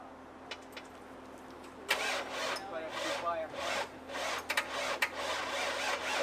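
A Mustang's engine cranks in a short series of close, rough grinding bursts before catching at a car show, with faint voices in the background.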